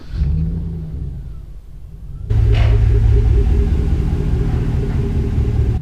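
A Chevrolet Silverado 5.3L truck with an Edge performance programmer tune drives along with a low, steady engine rumble heard from inside the cab, which grows suddenly louder and heavier midway as it accelerates.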